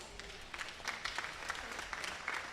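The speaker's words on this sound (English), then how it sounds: "Let's give a round of applause for our division champions." An indoor audience at a state fair FFA livestock show claps steadily for division champions, a moderate, even applause that holds for a few seconds without cheering.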